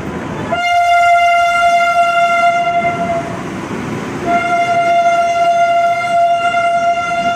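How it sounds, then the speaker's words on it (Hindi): A passenger train in Uttar Pradesh gets underway, its loud horn blaring in two long blasts over a steady rumble of moving carriages. "ट्रेन में बैठ गई हूँ और मेरी ट्रेन भी चल पड़ी है"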